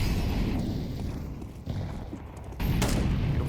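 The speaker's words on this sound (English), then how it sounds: "Saber's trying to pop shots, and holy, Chenga spits right back" Gunfire in the video game Counter-Strike during an ESEA match, a loud, dense wash of shots and impacts that dips briefly midway and surges back, heard close with no talking.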